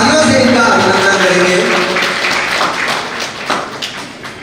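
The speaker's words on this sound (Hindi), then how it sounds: "हम तालियों से इनका अभिनंदन करेंगे।" Audience applause at a Saini community talent honour ceremony in Ratangarh, a dense, steady wash of many hands clapping that starts loud and gradually thins out, with faint voices underneath.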